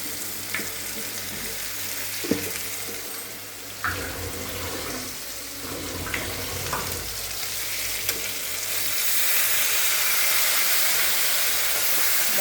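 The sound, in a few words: ginger, cumin and chili pastes frying in a pan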